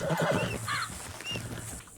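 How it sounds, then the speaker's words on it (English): A horse in a video game neighs with a short, high whinny, accompanied by faint hoof and tack sounds against a low ambient background. "Your horse is looking fit as a fiddle, Arthur."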